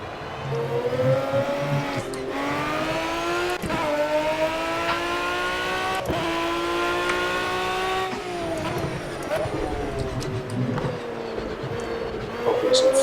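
A race car in the Project Cars video game, heard from outside, revs through rising engine pulls with quick gear changes and downshifts, a loud continuous whine stepping up and down in pitch, with a faint tire squeal.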